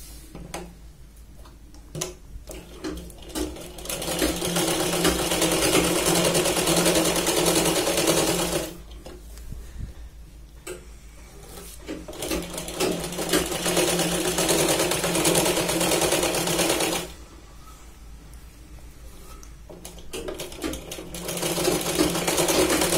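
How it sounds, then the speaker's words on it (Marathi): An electric sewing machine stitches a Punjabi dress, loud, close and steady with a fast rhythmic whir, running in long stretches broken by two short pauses before starting up again. "आपण इथे सुई न काढता आपण परत खालच्या साईडने इथे कडेने पण एक शिलाई लावून घेऊ"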